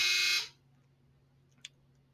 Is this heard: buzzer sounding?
yes